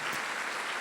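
A church congregation applauds at a service, a dense, even wash of clapping that fills the whole short moment at a moderate level, with no voices standing out.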